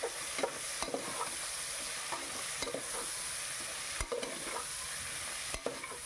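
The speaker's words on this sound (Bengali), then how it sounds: "পেঁয়াজগুলো অ্যাড করে ভালো করে একটু নাড়িয়ে চালিয়ে নিচ্ছি" Thinly sliced onions for a chicken curry with potatoes being stirred and fried in a pan, a continuous close sizzle broken by repeated scraping strokes of a spatula at an uneven rhythm.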